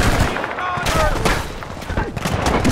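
Dense gunfire from the video game Battlefield Bad Company 2 crackles in rapid bursts and overlapping shots, loud and continuous, with a voice talking over it.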